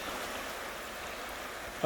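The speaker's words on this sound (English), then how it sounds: "We got a little bit of rapids going through there." A flooded creek running as rapids, a steady broadband rush of water that stays even and continuous, heard close with no voices.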